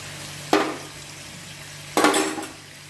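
Potato and cauliflower curry fries in a pan: two sharp bursts of spoon scraping and sizzling, about a second and a half apart, over a soft steady hum.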